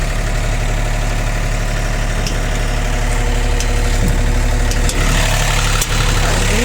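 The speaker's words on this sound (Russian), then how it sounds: "Двигатель трехцилиндровый." Three-cylinder diesel engine of a Yanmar YB251U mini excavator idling steadily, a loud, continuous, even drone close by with faint mechanical clicks and no talk.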